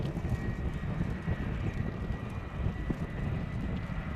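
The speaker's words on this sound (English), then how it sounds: "the speed and maneuverability of this machine makes this an excellent battlefield helicopter" A steady, loud engine drone with low rumble and some wind buffeting as a Boeing Chinook CH-47 HC2 helicopter of the Royal Air Force flies a display at RIAT 2017, passing continuously without pause.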